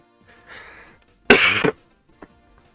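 A single harsh cough burst stands out clearly after a softer breathy sound, during a casual Mario Kart gaming session, with a faint click following.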